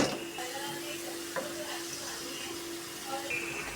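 Gravy frying in oil in a home kitchen pan, soft sizzling with a spoon stirring and scraping in short strokes, close and moderately quiet.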